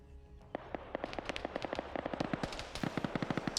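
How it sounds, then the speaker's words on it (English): Rapid bursts of video game gunfire as a sniper comes under fire in a tree-lined area: sharp, rhythmic cracks close together, steadily continuing without talk. "Dryden, the sniper, immediately comes under fire."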